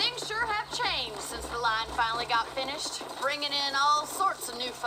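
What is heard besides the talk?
No everyday noises stand out.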